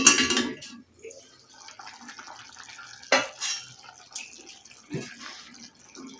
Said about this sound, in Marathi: तर एकदा झाकण काढून हलवायचं आहे